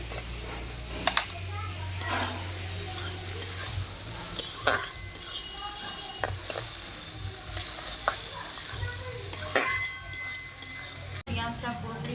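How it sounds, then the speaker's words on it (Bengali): Onions frying in a pan until lightly colored. A steady, soft sizzle runs throughout, broken by frequent close scraping stir strokes and occasional utensil taps, with a faint low murmur in the background. "ভাজা হয়ে গেছে এই যে হালকা রং ধরেছে এর বেশি আর ভাজবো না"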